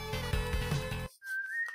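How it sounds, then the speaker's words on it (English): A sustained whistle tone from Rockman 7, rising slightly in pitch, sounds alone right after dense game music cuts off, fairly clear and steady for under a second. "What's that whistle?"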